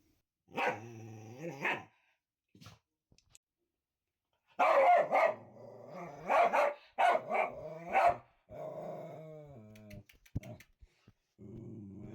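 A dog barks in short bursts, some drawn out into growly, whining tones, with quiet gaps between the outbursts; close and fairly loud, captured by a microphone.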